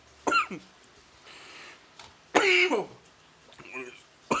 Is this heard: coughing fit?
yes